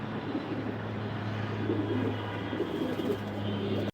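Racing pigeons just lifted out of a cage coo steadily over a constant low hum, close and moderately loud, with no speech.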